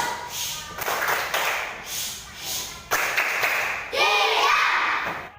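Children in a classroom doing the 'tepuk diam' clapping routine, with bursts of group claps and taps in an uneven rhythm and a voice speaking briefly over the claps near the end.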